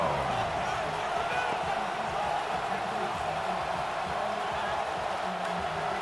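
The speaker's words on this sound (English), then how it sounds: "Crowd noise rises." Steady, dense crowd roar in the Madden NFL 26 video game fills the whole stretch at a constant level, a broad wash of stadium noise with indistinct voices mixed in.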